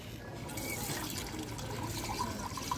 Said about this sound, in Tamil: தண்ணி பிடிச்சிட்ருக்கோம்.